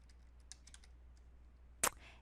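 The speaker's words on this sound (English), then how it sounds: "you could either type in the number manually in this box" A phone number is keyed in on a computer keyboard, a handful of soft, scattered keystrokes followed by one louder, sharper key press, all faint and close in a quiet room.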